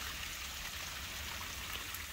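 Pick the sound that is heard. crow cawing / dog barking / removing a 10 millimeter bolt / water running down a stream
water running down a stream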